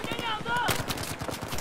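Rapid bursts of MG4 light machine gun fire in the video game Battlefield 4, a loud, rhythmic stutter of shots running through the second half, with background game noise throughout.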